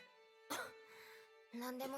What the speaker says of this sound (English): Can we deal with her cough?